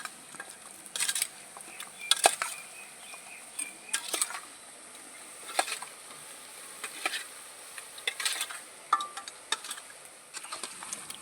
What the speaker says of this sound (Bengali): এগুলোকে ভালো করে মাখিয়ে নেব যেহেতু গরম আমি এই হাতাটা দিয়ে মেখে নিচ্ছি